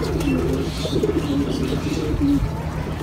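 Racing pigeons coo repeatedly inside a pigeon farm loft, with several soft, throaty calls overlapping close by against a low steady background hum.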